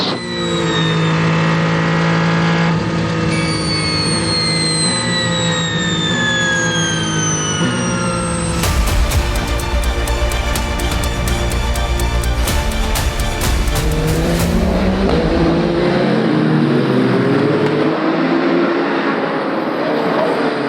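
Onboard engine roar from Robert Kubica's race car at the Le Mans 24 Hours in wet conditions, loud and continuous with rising and falling revs through gear changes and a harsh rasping stretch near the middle.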